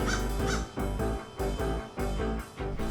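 Several crows caw loudly and repeatedly in harsh, overlapping bursts as they mob a kestrel clutching a mouse in a busy city, the calls coming in rapid pulses with brief gaps.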